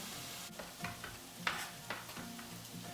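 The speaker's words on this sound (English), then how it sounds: "I'm adding about 2 cups of chopped yellow and red pepper, as well as a red onion, to a couple tablespoons of olive oil" Chopped yellow and red peppers with red onion sizzle in a couple tablespoons of olive oil, a quiet steady crackle broken by a few stirring scrapes and clicks, with no talking.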